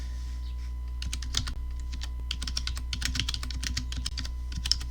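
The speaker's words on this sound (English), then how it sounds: "I'm typing something on Google to find out" Rapid typing on a computer keyboard during a web search, a dense run of close, crisp key clicks with brief pauses, heard alone over a faint steady hum.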